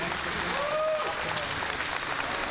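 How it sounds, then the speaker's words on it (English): A crowd at a street machine award ceremony applauds a car owner, even and somewhat distant clapping mixed with speech and a brief tonal whine. "let's give a big round of applause for George Poteet for stepping up and getting these cars on the road"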